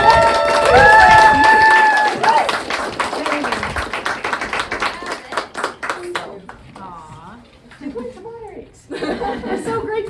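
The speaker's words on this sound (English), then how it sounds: "Let's just have a round of applause for" An audience at a community plant gathering gives a round of applause, a loud burst of many clapping hands with laughter and chatter mixed in, trailing off into scattered claps as people talk.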